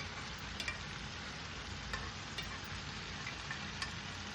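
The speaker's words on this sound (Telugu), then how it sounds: "వేగిపోయిన తర్వాత మనం ఉడకబెట్టుకుని పక్కన పెట్టుకున్నాం కదా చికెను, అది వేసేయాలి దానిలో." Boiled chicken frying in a pan for an Andhra chicken fry, a continuous dense sizzle with occasional faint stirring clicks, steady and fairly quiet throughout.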